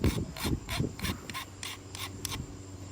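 Hand rasp rounding off the wooden handle of a German throwing axe during hafting, a series of quick rhythmic scraping strokes, close and fairly quiet, with no talk.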